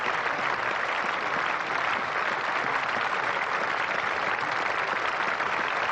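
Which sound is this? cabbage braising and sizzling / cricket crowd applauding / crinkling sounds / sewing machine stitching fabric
cricket crowd applauding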